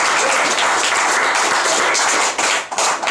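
Loud, dense applause from a magic show audience fills the room with steady broadband clapping that carries on without a break for about three seconds.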